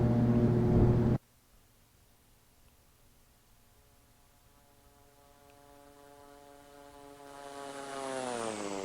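A Q-400 turboprop in the Infinite Flight simulator takes off in Hawaii: a loud roar cuts off abruptly, then a steady propeller drone with a rising whine swells gradually as the aircraft climbs.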